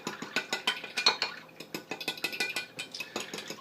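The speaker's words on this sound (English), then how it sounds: "give those a stir with a fork" A fork stirring sugar into water in a bowl while mixing beignet batter, giving a rapid run of light metallic clinks and scrapes against the dish, close and fairly quiet, with no talking.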